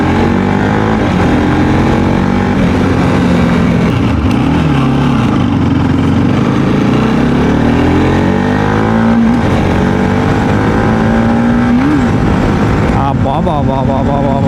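A 2016 Bajaj Pulsar RS 200 motorcycle is ridden, its engine droning loud and close throughout with repeated rises and falls in revs as it accelerates and shifts, and wind rushes past the microphone.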